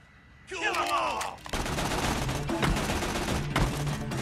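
Rapid, continuous gunfire from the video game Tales from the Borderlands rattles on steadily for several seconds after a brief voice and a swooping effect.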